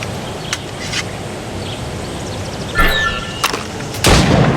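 Sharp gunshots fired at practice targets in the video game Assassin's Creed Rogue, a few loud cracks spaced irregularly, the strongest near the end, over a steady ambient game background.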